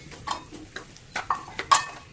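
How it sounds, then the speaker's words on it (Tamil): Semolina (rava) roasts in a pan with curry leaves and chili, as a spoon stirs and scrapes, giving several sharp metallic clinks and scrapes against the pan over a soft background. "இது கூட 1 கப் ரவையை சேர்த்து வறுத்துக்கலாம்."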